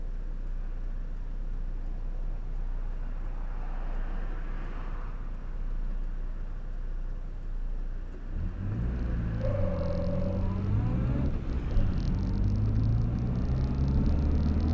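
A 1962 Morris Minor idles with a low, steady rumble, then pulls away around the midpoint, its engine note rising and shifting through gears as it drives on, close and continuous with no talk.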